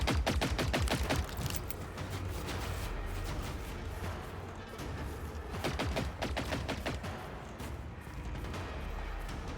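Gunfire rattles in Generation Zero, two loud bursts of rapid shots in a fast rhythm separated by a quieter stretch, with little talk over it.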